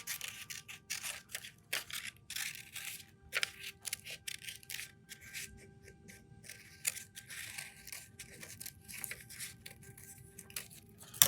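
Scissors cut a paper circle for a pinwheel in quick, quiet snips and rustles, closely spaced and irregular, with no talking.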